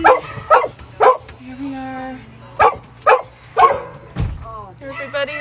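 Several dogs in crates stacked inside a van bark, yip and whimper close by, short sharp barks mixed with high whining cries, while a person speaks softly among them.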